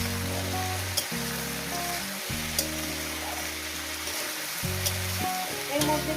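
Small river fish, turmeric and vegetables sizzle in hot oil on a medium flame, a steady, fairly faint frying hiss with occasional crackles beneath soft background tones.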